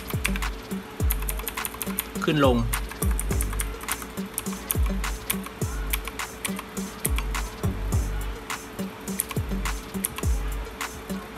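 Key presses on a Fantech MK855 mechanical keyboard with red switches, a steady scatter of close, dull clacks and thocks with brief pauses, while someone talks quietly over the typing.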